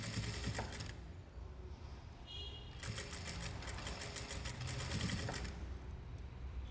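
A sewing machine runs in fast, steady bursts while stitching tucks, its needle chatter pausing briefly near the middle before starting again, close and fairly quiet.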